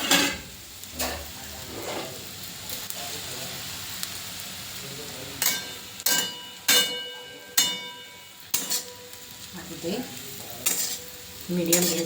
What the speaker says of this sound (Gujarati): હવે આને થોડું આપણે તેલમાં ફ્રાય કરી દઈશું